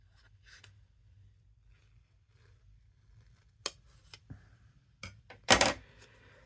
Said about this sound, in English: those are such big scissors to be doing fussy cutting